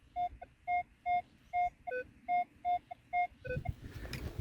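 A metal detector sweeping grassy ground near an old house site gives a run of regular, clipped electronic beeps, about ten evenly spaced, with a couple of lower-pitched tones near the end and soft rustling after.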